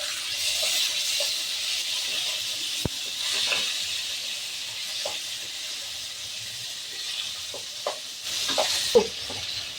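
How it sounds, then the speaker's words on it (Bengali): Whole cumin and bay leaf tempering in hot oil for a fish curry, a continuous close sizzle and hiss with occasional soft stirring scrapes, no voices. "ফোড়নটাকে 2 মিনিট নাড়িয়ে নিয়েই আমি এর মধ্যে কুচো করে রাখা টমেটোটা দিয়ে দেবো।"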